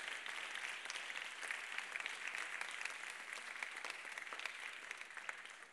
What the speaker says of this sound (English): please make a round of applause for Chris Johnston.